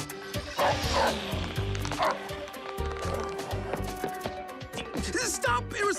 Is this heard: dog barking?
yes